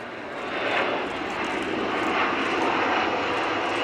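An Airbus A400M military transport flies past at the Royal International Air Tattoo at Fairford, its turboprop engines producing a loud, steady broadband roar that swells slightly and holds throughout.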